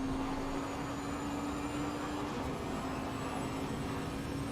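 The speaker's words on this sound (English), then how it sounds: "I'm not going to say I really enjoy the sound of the Bentley" Steady, loud drone of a Bentley GT3 race car engine in a sim racing game at Misano, holding a constant humming tone throughout with no talking.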